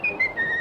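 Short melodic whistling from Disney's Steamboat Willie cartoon, three clear sustained whistled notes in quick succession, moderately loud and heard alone.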